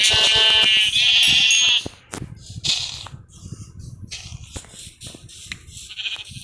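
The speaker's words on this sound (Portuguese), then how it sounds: "Ovelha, eu preciso de ovelha." Loud synthetic-sounding Minecraft sheep bleats fill the opening seconds, then give way to quieter clicks, small effects and faint background noise.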